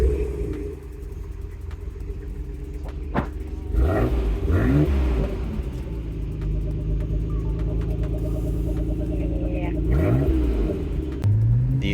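An imported Japanese car accelerates from close by, its engine rising in pitch through sweeping gear-change swoops with a deep rumble, loud and continuous, with talking layered over parts of it.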